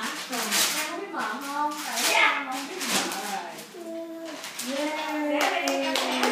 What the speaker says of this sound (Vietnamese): Em mở xong là em vỗ tay đó kìa.